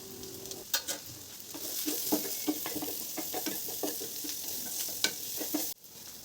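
Grated papaya frying in oil with turmeric and salt, a close, hissing sizzle broken by repeated scraping stirs and small clicks of a utensil against the pan, ending abruptly.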